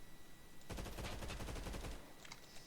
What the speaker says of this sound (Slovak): No potom tu máme AUG, to je ako skôr taká snajperka, tak uvidíme.